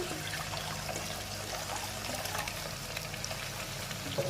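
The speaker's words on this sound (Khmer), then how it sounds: "បន្ទាប់មកគឺយើងចាក់ទឹកចូល" Water pours steadily into a metal pan, a continuous trickling splash with a faint bubbling quality, close by and without any talking.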